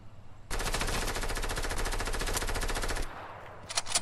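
Rapid automatic gunfire in the video game Fortnite, one sustained loud burst of evenly spaced shots lasting about two and a half seconds, followed by a quieter pause and a few short bursts at the end.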